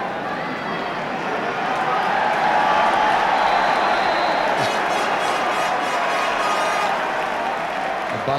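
A football crowd at a 1980 UEFA Cup semi-final between Ipswich and Köln keeps up a steady, dense buzz as Ipswich bring on substitutes, a broad roar with no break, loud and continuous.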